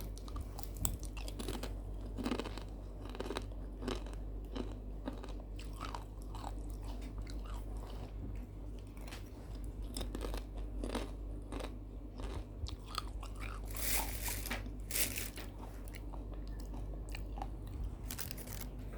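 Someone eating banana chips, with repeated close crisp crunches and steady chewing at low volume, and a louder flurry of crunching near the end.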